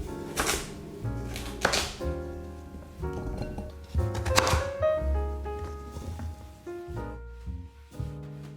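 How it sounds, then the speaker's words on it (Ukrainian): Knife strokes thud on a cutting board in an irregular series as sweet potato is cut into sticks, under steady background music. "Я нарізаю його такими паличками"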